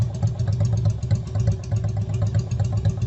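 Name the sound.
motorcycle engine idling, Yamaha Virago 250 twin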